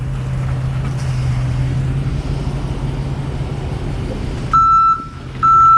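A truck reverses with its backup alarm sounding, first a steady engine drone with a low hum, then loud, evenly spaced electronic beeps near the end.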